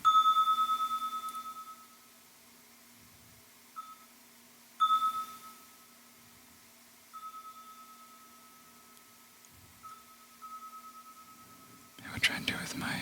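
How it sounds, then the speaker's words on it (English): A small metal bell with a wooden hammer inside, struck a few separate times, each a clear ringing ding that decays slowly in a quiet room, followed by brief rustling at the end. "It's just kind of a metal bell. And it has the wooden hammer inside."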